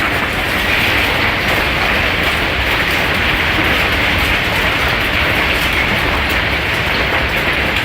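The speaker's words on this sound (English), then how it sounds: "This hailstorm in Texas was so intense that the hail started coming inside the home." An intense Texas hailstorm pours down as a dense, unbroken roar of pelting ice, loud and close throughout, with no voices.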